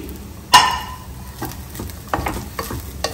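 Coconut rice with fresh coriander being stirred in a pan: one sharp metallic clang of a spoon against the vessel, then softer scraping and light tapping strokes close by, with a faint sizzle underneath and no talk.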